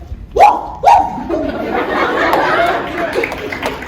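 At a pageant, a person imitates a dog with two sharp, barking yelps in quick succession, followed by a crowd's lively chatter and laughter carrying on underneath.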